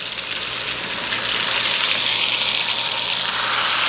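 Steak searing in a hot pan just after being flipped, a loud, steady sizzle that swells about a second in and holds at full strength, with no talk over it.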